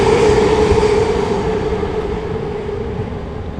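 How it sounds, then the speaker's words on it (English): A train rolls past close by, a loud sustained rumble with a steady metallic drone over rattling wheels, gradually easing slightly in level, with no talking over it. "Train go by, right?"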